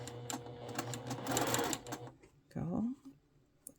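A sewing machine stitches a curved quilt-piecing seam, running in a steady whir for about two seconds before stopping, with a person talking over and after it.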